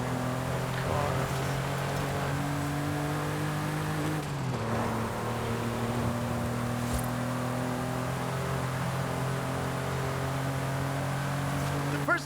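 A fast car's engine races steadily in Forza Horizon, a loud sustained drone with shifting pitch that dips briefly partway through before holding again.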